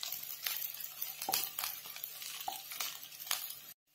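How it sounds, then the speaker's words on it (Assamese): Chopped onions sizzle in hot oil in a pan while a spoon stirs them with soft, periodic scrapes, quiet and close with no talking, then cut off abruptly. "পিঁয়াজখিনি আমি কালাৰটো অকণমান চেঞ্জ হোৱালৈকে অলপমান ভাজি থাকিব লাগিব।"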